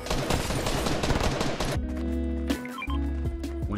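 Rapid automatic gunfire in a video game, loud and dense at first, then giving way to scattered single shots over game effects and music-like tones.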